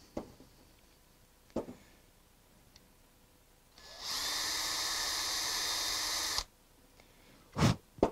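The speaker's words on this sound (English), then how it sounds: "in order to reduce the wedging action of the point, I'm just going to make a shallow 1/8 inch hole there." A power drill bores a shallow 1/8 inch hole into a wooden turning blank, a steady whine of about two and a half seconds between quiet moments, with a sharp knock after it.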